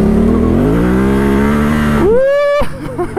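Yamaha Tenere 700 adventure motorcycle engine revving loud and close, a sustained rising drone that climbs sharply in pitch near the end before cutting off into a few brief blips.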